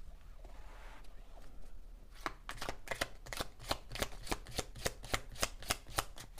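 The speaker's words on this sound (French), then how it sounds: "Je mélange un petit peu les cartes." Oracle cards being shuffled by hand, close and soft. Faint rustling comes first, then a steady run of crisp, evenly spaced riffling slaps.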